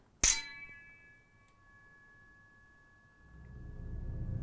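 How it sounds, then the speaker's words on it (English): A sword blade struck once with a sharp metallic clang, then ringing with a steady sustained tone that lingers faintly under a low background rumble, no talk. "You can hear that continuous tone in the blade now"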